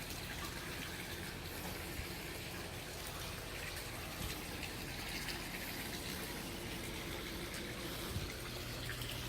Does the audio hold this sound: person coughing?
no